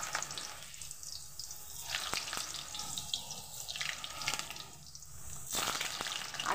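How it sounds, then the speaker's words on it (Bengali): Potatoes frying in hot oil in a wok already used for onions, a moderate crackling sizzle that swells and fades in waves with scattered sharp pops, fairly close and without talk. "ওই তেলেই ভেজে নিচ্ছি আলুগুলো।"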